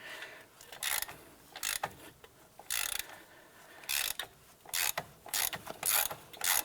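A wheel hub bolt is removed on a 2006-2011 Cadillac DTS during a front wheel bearing and hub job, heard as bursts of faint ratcheting clicks that repeat in short, irregular runs.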